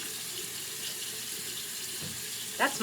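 Warm water runs steadily from a bathroom tap into a sink for face washing, a soft continuous hiss with a brief splash near the end.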